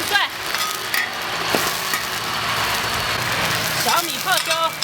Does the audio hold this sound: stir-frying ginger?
yes